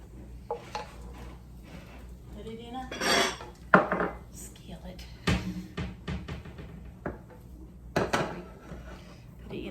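Bacon grease poured from a skillet into a bowl in a home kitchen, with repeated clanks and scrapes of metal pans and utensils, close and irregular, and someone speaking at times.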